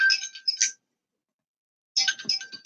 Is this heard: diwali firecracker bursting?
no